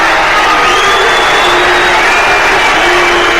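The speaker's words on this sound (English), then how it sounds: "With the fury of the crowd raining down upon Jared Gillett, the referee." A football stadium crowd at Fulham versus Nottingham Forest jeering the referee, a loud, dense, sustained roar of many voices with rising howls, continuous throughout.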